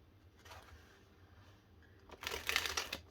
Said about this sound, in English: We'll just do a shuffle to really get the cards changed a bit.